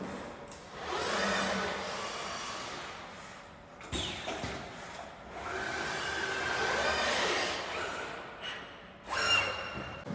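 An automated handling unit picks up a tube after end forming and feeds it into a CNC tube bending machine, giving a whirring, hissing mechanical run with clunks and short pneumatic bursts in a compact production cell.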